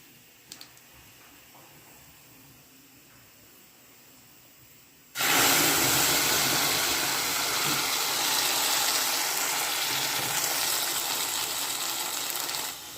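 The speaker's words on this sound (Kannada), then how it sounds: "ಟೊಮೆಟೊ ಪ್ಯೂರಿ ಚೆನ್ನಾಗಿ ಹುರ್ಕೋಬೇಕು, ಅಂದರೆ ಹಸಿ ವಾಸನೆ ಹೋಗೋವರೆಗೂ ನಾವು ಫ್ರೈ ಮಾಡಬೇಕು" Tomato puree frying in a pan for kadhi: after a few seconds of near silence, a sudden loud, steady sizzle and hiss erupts and continues close by without a break.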